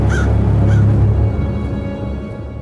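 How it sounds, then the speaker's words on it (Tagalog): Crows caw twice in quick succession, harsh calls ringing out early over a steady low drone that lingers after them. "At mula sa malayo, narinig ko ang huni ng mga uwak."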